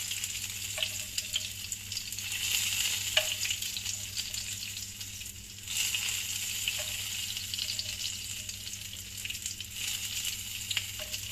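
Roach fish frying in hot oil in a pan, a steady close sizzle with crackling spatter and occasional faint clinks, continuing throughout with no voices.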